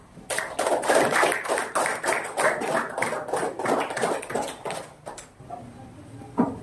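Classroom applause from students after a presentation, a dense burst of clapping lasting about five seconds before tapering off into scattered claps and room noise.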